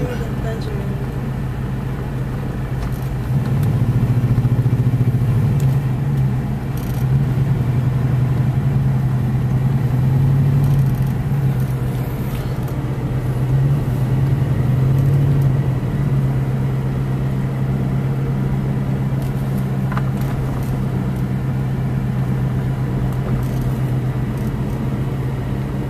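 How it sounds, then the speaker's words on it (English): A car moves through slow road traffic toward Tuxpan, its engine a steady mid-range hum with low rumble throughout, swelling slightly after the first few seconds and holding under faint background noise. "Slow traffic to Tuxpan."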